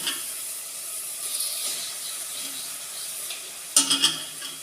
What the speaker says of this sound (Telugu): ఈ ఉల్లిపాయ పేస్ట్ కూడా బాగా ఫ్రై అయిపోయింది దీంట్లో కూడా వేస్తున్నాను చేప ముక్కలు